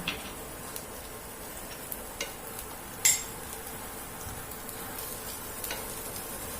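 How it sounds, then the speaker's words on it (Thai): Galangal chili paste stir-fried in a pan gives a faint, steady sizzle with scattered light clicks and one sharper scrape of the utensil partway through, no voices. "เราก็จะนำน้ำพริกข่าของเราลงผัดนะคะ"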